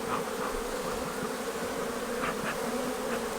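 Honeybees buzz in a continuous, close, dense drone while a beekeeper works open frames during a weekly hive inspection with a smoker, the hum steady and loud with brief higher whirs as individual bees pass.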